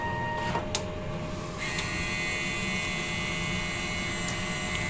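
A DTF printer running a head clean cycle, a steady close mechanical hum with a brief click early on, then a higher whining motor tone that holds to the end.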